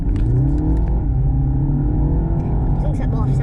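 Diesel car accelerating hard in sport mode, engine droning loud and steady from inside the cabin, with people talking over it.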